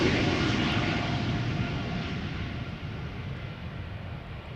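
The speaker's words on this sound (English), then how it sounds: "This is KLM flight 1343 outbound to Billund" A KLM airliner, about two years old, departs Schiphol outbound to Billund, its engine roar strong at first and slowly fading as it climbs away.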